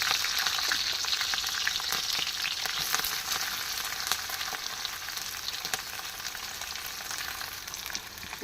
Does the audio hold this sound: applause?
no